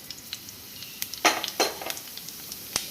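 Cumin and spices fry in hot oil in a pan with a soft sizzle, punctuated by several sharp clinks and scrapes of a utensil against the metal, irregular and close.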